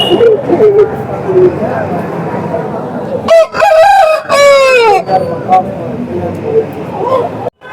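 A loud Tamil Nadu fighting-breed rooster crows nearby at a hen and sheep market in Baireddipalli, one long strained call in the middle, with people talking and a murmur of voices before and after.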